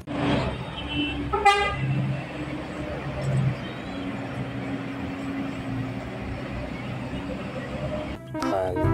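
Toy bus horn giving short electronic toots near the start and again at the end, over a steady whirring toy-motor hum with some background voice.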